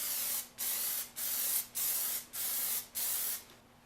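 Plastidip aerosol sprayed onto a car headlight in six short bursts, each a loud close hiss of about half a second separated by brief pauses, with no talk.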